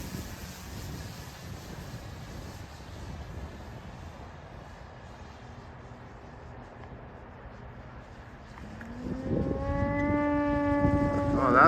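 The small electric motor of a 3D printed radio-controlled stunt plane whines from a distance, rising sharply in pitch and loudness near the end as it is pushed to full throttle, over outdoor wind noise.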